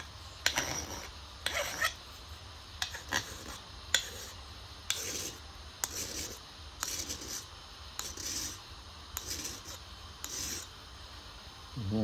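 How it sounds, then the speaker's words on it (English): A hand file rasps against the end of a metal TX tab to remove burrs, about a dozen short scraping strokes in an irregular rhythm, close and fairly quiet, with no talking. "And I take a file and clean up, try to get the burrs off of this end."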